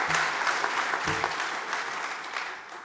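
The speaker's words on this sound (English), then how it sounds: "I think it needs some applause." A burst of clapping from a conference keynote audience, steady and moderately loud, slowly fading toward the end.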